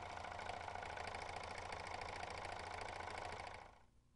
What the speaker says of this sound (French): Commencez à coudre lentement en tenant tous les fils et en les laissant former une chaînette.